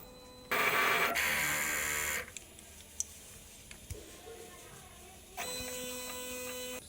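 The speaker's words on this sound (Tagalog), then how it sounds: "Ito naman po yung pag-head clean." A DTF printer's print head runs its cleaning cycle: a loud pump or motor whir for about two seconds, then quiet clicks and ticks over a low hum, and a steady mechanical drone starts again near the end.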